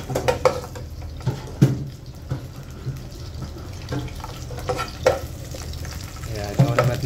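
Chicken hearts fry in oil in a pan with a moderate sizzle. Irregular scraping and clattering of a utensil stirring comes in several distinct bursts, and there is no talking.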